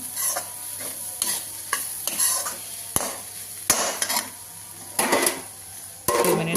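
A spoon stirs cabbage and fresh grated coconut curry in a hot pan, with repeated scraping clinks against the metal over a steady soft sizzle, close and uneven in rhythm.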